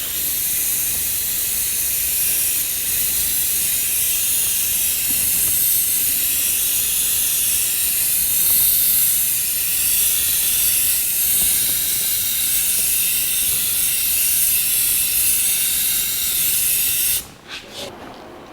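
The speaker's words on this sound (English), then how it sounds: "this is our third and last coat of primer." An aerosol spray can lays a coat of primer on the fender well of a 1949 Chevrolet gasser, a continuous close, loud hiss lasting many seconds before it stops abruptly near the end.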